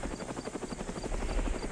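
A helicopter's rotor throbs in a fast, steady chop at low volume, a distant buzzing drone in a Roblox game, with no talk over it.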